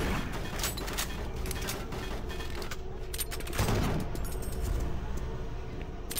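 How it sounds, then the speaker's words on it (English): Enemy shotguns firing in the video game Doom 3, repeated sharp blasts and booming hits amid dense, continuous action noise at a steady loud level. "the knockback on their shotguns is huge"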